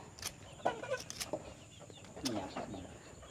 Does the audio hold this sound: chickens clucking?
yes